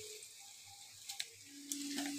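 Cumin powder tipped into browned onions frying in oil for a butter methi chicken, giving a soft steady sizzle with a couple of small sharp ticks of spoon or pan.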